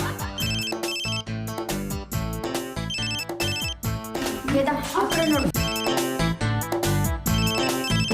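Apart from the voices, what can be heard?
mobile phone ringtone ringing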